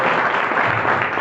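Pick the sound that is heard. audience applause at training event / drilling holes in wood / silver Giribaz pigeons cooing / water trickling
audience applause at training event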